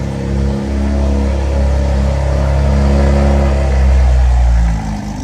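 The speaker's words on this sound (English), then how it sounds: "That's what it sounds like with the valves open." Idling with its exhaust valves open, a catless BMW G80 M3 with Valvetronic exhaust holds a thick, loud, close engine rumble for five seconds, steady with a slight swell near the end before easing off.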